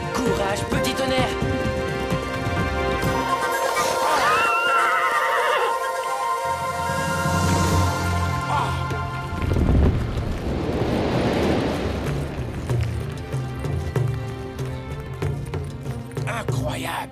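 A wild pony whinnies in a cartoon, its loud neighing rising over music with hoofbeats, while characters speak at moments throughout.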